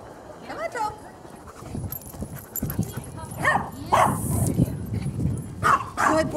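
A small dog barks at sheep in a field, sharp yips scattered through the clip while a person calls encouragement over them, with some rustling and movement noise in between.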